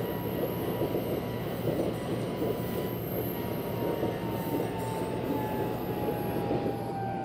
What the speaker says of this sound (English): there's some really far gaps between some stations where the train can get to a really fast speed